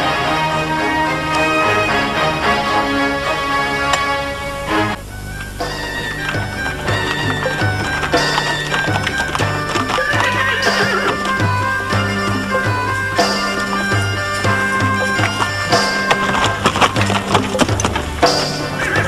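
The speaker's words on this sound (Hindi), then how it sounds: "बाबा सामने घोड़े हैं" Horses whinny and hooves clip-clop amid a dense, busy mix of rhythmic knocks and tones that runs on without pause, from a period drama scene.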